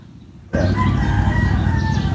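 Chickens, including a large mother hen, cluck and crow loudly at close range on a farm, a sudden burst of overlapping poultry calls that continues steadily.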